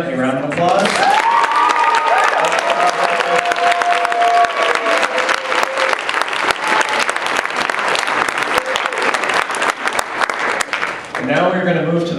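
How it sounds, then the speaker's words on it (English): An audience at a dance competition claps and cheers loudly for about ten seconds, dense and continuous, with voices rising over the start and the clapping dying away at the end. "Give them a round of applause."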